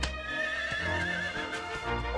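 A horse in the Dragon Quest XI video game lets out a clear, fairly loud whinny that wavers and trails off, with light hoof clip-clops and game sounds beneath it and no talking.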